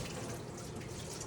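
Running water pours steadily over strained black beans, a constant close splashing rush with no pauses or talk.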